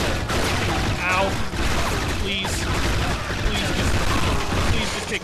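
Dense gunfire in the spy shooter 007 Agent Under Fire, a mission in Hong Kong, crackles continuously through the whole stretch as rapid shots mixed with game effects, with a voice talking over it.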